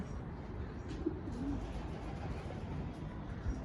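Pigeons coo softly over a steady outdoor background hiss, with a couple of faint low calls rising briefly from the noise.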